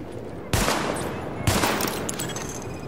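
Two sharp handgun shots fired at highlighted targets in The Division's weapon test, about a second apart, each with a short ringing tail, loud and close with no talk.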